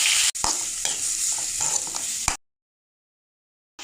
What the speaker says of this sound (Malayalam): നമുക്കിനി അരിഞ്ഞു വെച്ചിരിക്കുന്ന സവാള ഇട്ട് കൊടുക്കാം.